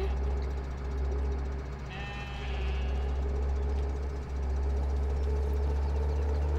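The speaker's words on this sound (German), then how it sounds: "So, dann haben wir jetzt 46 Schafe drin." A flock of sheep in the farming game Landwirtschafts-Simulator 17 gives a single short bleat midway, heard over a loud, steady idling engine drone.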